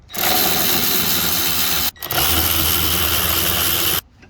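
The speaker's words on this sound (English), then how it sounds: "Now we'll remove the hose clamps from here using the 5/16" A power driver with a 5/16 bit loosening hose clamps on a 2021 Polaris RZR XP4 1000, a loud steady whir that runs, stops briefly, then runs again before cutting off.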